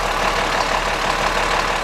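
A John Deere 4630 tractor engine idles steadily, a continuous close, loud mechanical rumble with no talking over it.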